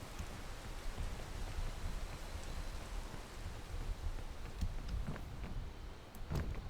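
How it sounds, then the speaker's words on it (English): Steady rain in a video game, a dense, even hiss of falling drops that continues throughout at moderate level, with a few faint sharper ticks near the end and no talking. "it's raining for so long!"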